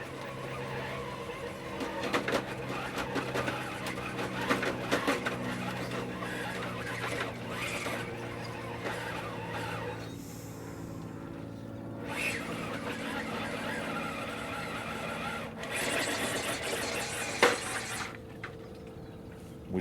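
An RC rock crawler on 1.9-inch MIX Racing off-road tires climbs a canyon corner, its small electric motor whirring and buzzing unevenly over rough ground, with tire scrabbling and brief gaps as throttle changes.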